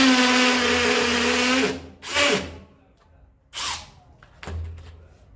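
A brushless cordless drill in hammer mode bores into a wall, one long whirring burst followed by three shorter spurts, close and loud with quiet pauses between.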